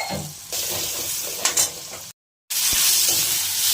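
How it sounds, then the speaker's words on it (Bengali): Sliced onions fry in hot oil for a dried-fish (shutki) curry: a loud, steady sizzle with stirring scrapes that cuts out completely for a moment, then returns just as strong. "তারপর পেঁয়াজগুলোকে হালকা করে ভেজে নেব"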